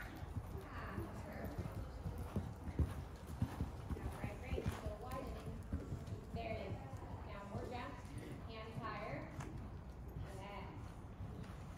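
Pony hooves clip-clop at a walking pace throughout, mixed with people talking nearby.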